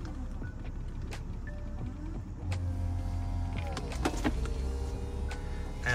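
An electric convertible roof motor on a BMW E64 whirs as the roof folds down, starting after a quiet moment and running in steady motor hums with a few clicks and clunks, fairly close and moderate in volume.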